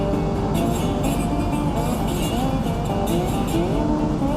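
A 1965 Porsche 912 cruising on a country road gives a continuous loud, close engine drone with gently rising and falling pitch as it pulls along, and no voices over it.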